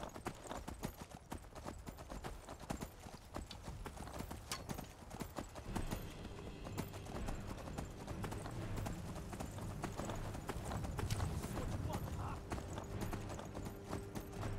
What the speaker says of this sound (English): Let me on the horse, let me on the horse.